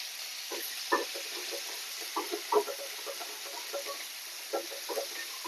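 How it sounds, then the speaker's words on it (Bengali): Sliced onions fry in hot oil in a pan for birista, a steady soft sizzle running beneath intermittent scraping and stirring clatters from a utensil. "বেরেস্তা ভাজার জন্য পেঁয়াজগুলো দিয়ে দেবো।"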